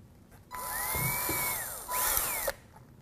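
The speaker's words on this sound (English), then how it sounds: "We're going to drill out the one hole on our angle bracket." A power drill whirs up and bores a hole in a metal angle bracket for about two seconds, briefly easing off then revving again before stopping; close and fairly loud, no talking.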